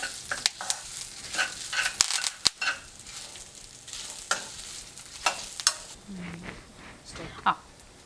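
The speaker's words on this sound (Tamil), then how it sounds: "சேர்த்துட்டு நல்லா வணக்கிக்கோங்க." Dried red chillies sauté in a pan for masala puffed rice (kara pori), giving a soft sizzle under repeated scraping and stirring strokes, with a brief low clink near the end.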